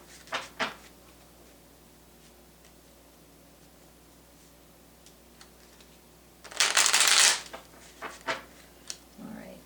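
Tarot wisdom cards are shuffled in one loud, close, rushing burst lasting under a second, followed by a few softer taps and flicks of the deck.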